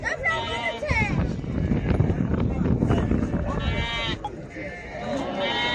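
A male Arab goat and others bleat in short wavering cries at the Maştağa livestock market, several calls overlapping crowd chatter and nearby voices.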